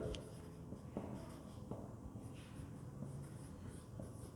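Pen writing out a maths solution by hand on paper for a divisibility problem, soft continuous scratching strokes with brief taps, close and fairly quiet, no talking over it.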